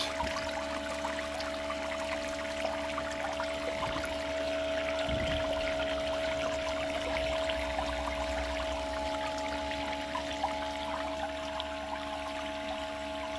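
Water flows steadily across a Miller table used for gold separation, running too fast: a continuous splashing, gurgling rush with a steady pump hum underneath, close and constant throughout, no talk.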